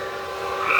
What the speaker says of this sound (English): The hum is Marcy's swamp cooler that you hear in the background other than the toad or frog